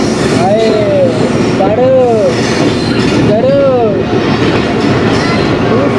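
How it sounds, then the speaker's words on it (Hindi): Bulleh Shah passenger train pulling into Khudian Khas railway station, bound onward for Pakpattan, a steady loud rumble of wheels with repeated squealing tones and a crowd of voices on the platform. "बुल्ले शाह पैसेंजर पहुंच रही है खुटियाँ ख़ास रेलवे स्टेशन पर"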